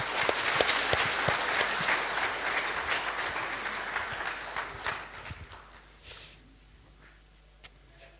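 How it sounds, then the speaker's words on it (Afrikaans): Church congregation applauding together, a dense, loud burst of clapping that thins out and fades over several seconds into scattered final claps and near silence. "Kom ons gee vir hulle lekker hande klap."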